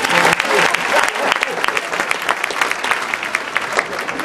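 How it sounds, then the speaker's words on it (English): At a high school graduation ceremony, the audience gives a round of applause, close and loud clapping with individual sharp claps standing out as it gradually thins. "Let's give her a round of applause."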